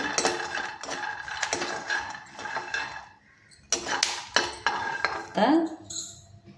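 Roasted peanuts are scooped out of a pan and set aside, giving bursts of clattering, scraping metal-on-metal clinks with a short quiet pause midway.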